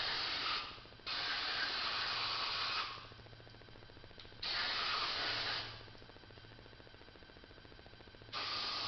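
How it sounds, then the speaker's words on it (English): Brake parts cleaner sprayed from an aerosol can into a Troy-Bilt Horse tiller carburetor, heard as three long bursts of close, hissing spray separated by quieter pauses. "we'll take some brake parts cleaner and just spray this out a little bit."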